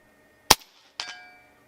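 A JTS Airacuda Max .25 air rifle fires once with a sharp, close crack, followed about half a second later by a fainter metallic ring from the target downrange, fading out.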